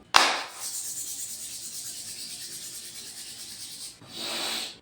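Palms rub briskly together in a quiet room as part of a meditation routine, a close, dry swishing that runs steadily for several seconds after a sharp start, pauses briefly, then resumes.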